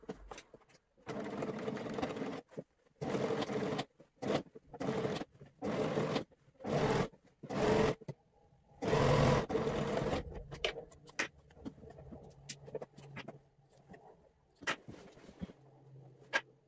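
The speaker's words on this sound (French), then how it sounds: "je m'apprête à coudre la fourche du pantalon, la fameuse couture au niveau du popotin" A sewing machine stitches the crotch seam of a pair of trousers in a series of loud bursts of rapid mechanical whirring, separated by short pauses, before it fades into quieter handling noises and a low hum.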